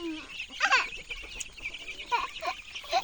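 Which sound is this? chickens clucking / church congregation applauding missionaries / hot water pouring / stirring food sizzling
chickens clucking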